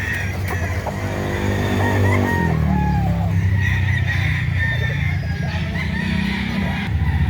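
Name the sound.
chickens and roosters for sale at a market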